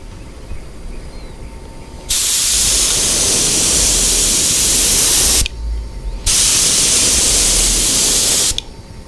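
An airbrush lays down a light coat of detail blue paint in two sustained bursts of steady, close hiss, each lasting a few seconds, separated by a short pause with low background noise.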